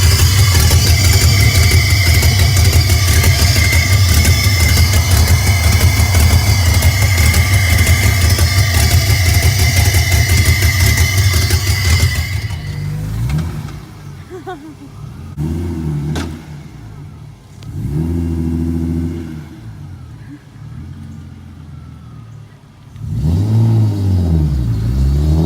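Modified BMW E34 535i, intake off and parts not fully tightened, runs with a loud steady roar up close, then drops to a rough idle broken by several rising-and-falling revs.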